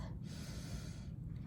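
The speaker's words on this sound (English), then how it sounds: "Take another deep breath." One slow, deep inhaled breath taken through the nose, soft and airy, close and quiet.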